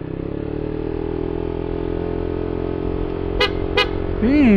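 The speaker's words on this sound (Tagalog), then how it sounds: "Ganda pala ng ano nito guys, busina." Two short, sharp motorcycle horn beeps sound close by over a steady idling engine rumble on a bike with a JVT V3 and 11g flyballs, followed by a rising engine rev.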